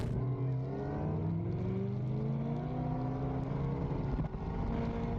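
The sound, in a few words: 1300HP twin turbo Shelby GT350 street racing Mustangs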